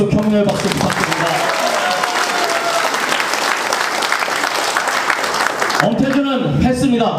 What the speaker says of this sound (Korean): 격려의 박수 부탁드립니다.